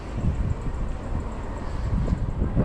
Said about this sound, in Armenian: Քամի է էլի հետո